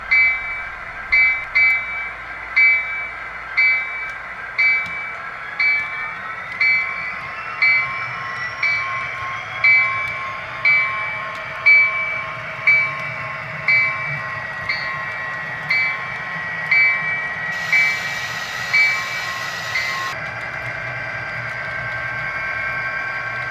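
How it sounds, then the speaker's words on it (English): A coal train rolls past with a steady rumble and rhythmic clacking of wheels over rail joints, a high tonal squeal above, and louder hissing near the end. "Looks like the coal train's all put back together and ready to proceed to the Vineland power plant."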